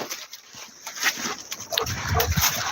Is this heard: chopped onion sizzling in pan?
no